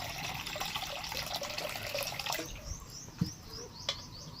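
Water pours from a tap or jug into a pot for boiling eggs, a continuous splashing stream up close that thins to trickles and drips near the end.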